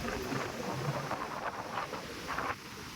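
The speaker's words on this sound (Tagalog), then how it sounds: "Lakas ang hangin guys" Steady gusty wind from a typhoon buffeting the microphone at a low-tide shore in El Nido, Palawan, a continuous roar with brief louder bursts, no voices.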